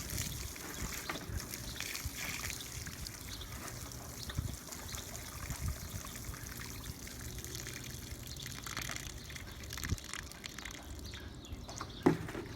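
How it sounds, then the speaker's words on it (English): Water pours from a watering can and splashes steadily into a dug tree-planting hole, a continuous gushing trickle with a faint rushing background and a small thump near the end. "So dump a whole lot of water in here."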